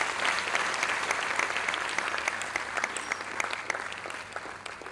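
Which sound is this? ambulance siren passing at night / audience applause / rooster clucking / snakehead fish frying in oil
audience applause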